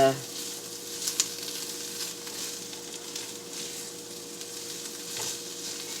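Leftover cooked ham sizzles in a pan for a frittata, a steady, fairly quiet crackling fry with a few sharper pops near the start.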